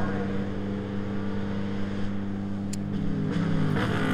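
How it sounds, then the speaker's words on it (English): Porsche race car engines drone steadily at a race track during Northeast Grand Prix qualifying, a continuous low mechanical rumble with some wind noise and a few brief higher bursts near the end. "as the Porsches are firing"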